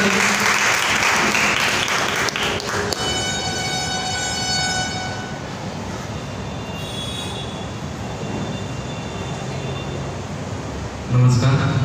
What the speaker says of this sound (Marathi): एकदा जोरदार टाळ्या झाला पाहिजे महेश सावंत.